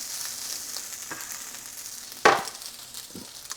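A wrap heating in a frying pan until slightly crispy gives a soft, steady sizzle with a brief sharper crackle near the middle, close and fairly quiet, with no talking.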